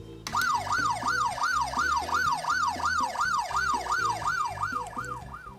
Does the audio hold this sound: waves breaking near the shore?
no